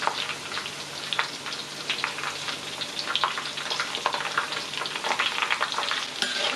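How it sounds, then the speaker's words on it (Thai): Banana chips fry in hot oil with pandan leaves and butter or margarine, a continuous dense sizzle with bursts of crackling and occasional stirring scrapes, close and steady throughout. "ทุกครั้งที่เราทอดนะคะ ใส่ใบเตยลงไป ามด้วยเนยหรือมาการีนนะคะ"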